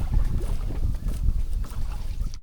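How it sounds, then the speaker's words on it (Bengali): A sail on a country boat flaps in strong wind on a river near the sandbar islands of Kurigram, with steady, close wind rumble and faint water beneath. "বাতাসে পতপত করে উঠছে পাল।"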